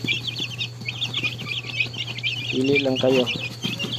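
A brood of baby chickens peeps in a rapid, high, continuous chorus, close by, with soft clucks mixed in while a person talks over them.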